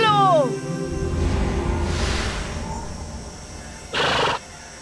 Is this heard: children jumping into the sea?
no